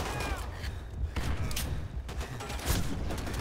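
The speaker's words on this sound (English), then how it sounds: "there's so many grenades!" Dense, chaotic combat in a WW2 Pacific War video game, with repeated booming grenade-like blasts and scattered gunfire layered over a constant low rumble, loud and close throughout.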